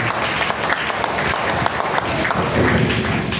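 A church congregation applauds, dense sustained clapping from many hands filling the space at close range, steady and loud throughout.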